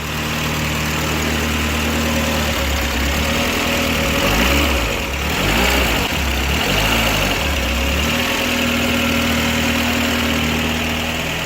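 Renault 19 16v Chamade engine idling steadily just after its first start, a loud, continuous close-up running note with a slightly rattly, uneven low rumble throughout.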